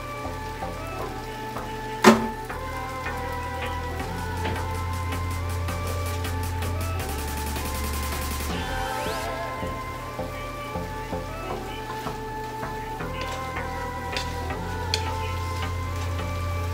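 Ground pork sizzling and frying in a pan, a steady crackling hiss with one sharp clatter early on, continuing alone without talk.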